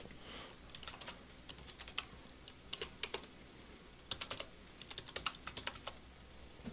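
Keys on a computer keyboard tapped in short bursts while text is entered in a graphics program, crisp clicks scattered over about seven seconds against a quiet room hiss, close and fairly soft with no voices.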